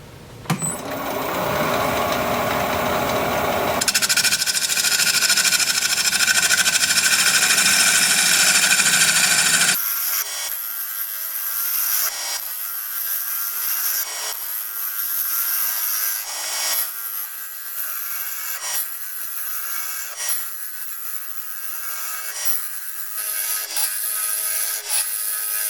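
Large maple burl bowl spinning on a wood lathe at 800 RPM while a 5/8 inch bowl gouge cuts it, a steady loud shaving hiss broken by rhythmic scraping bursts as the tool passes the uneven burl.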